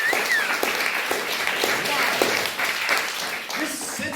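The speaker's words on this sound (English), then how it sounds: "Give them a big round of applause." Applause and scattered clapping from a comedy show audience in Vancouver, BC, loud and continuous with voices talking and cheering through it.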